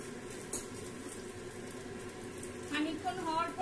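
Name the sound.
eggplant (begun) slices frying in a pan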